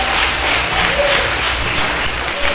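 A church congregation applauding, a loud, dense and sustained burst of clapping from many hands that fills the space without a break.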